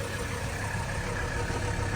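A 1983 Mercedes-Benz 300CD turbo diesel engine gives a steady, moderately loud low drone with a rough mechanical hum and no clear rise in pitch, with no voices over it.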